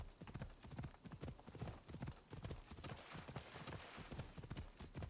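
Steady clip-clop of the horse Phobos trotting along a road in Assassin's Creed Odyssey, hoofbeats rhythmic and close, with an occasional faint whinny and no talk.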